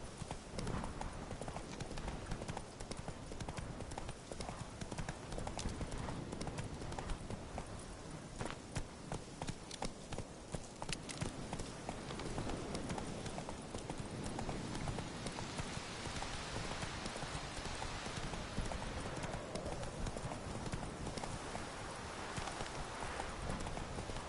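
Roach, a horse in The Witcher 3, gallops with a fast, continuous clip-clop of hooves, loud and close, over a dense wash of rain-like noise throughout, with no clear speech.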